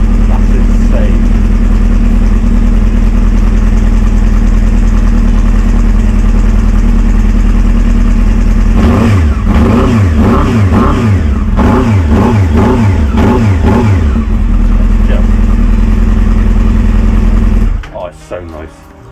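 Honda CBR 600 F2 motorcycle with an upgraded exhaust, loud and close: a steady idle, then a run of sharp repeated throttle revs rising and falling, settling back to idle before cutting off near the end.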